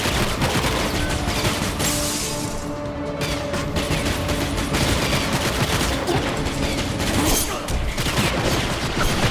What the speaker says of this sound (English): Someone's taking pot shots at me during my special kill.